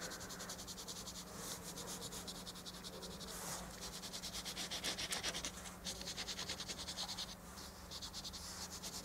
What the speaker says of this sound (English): I just rub it out and leave it in lightly still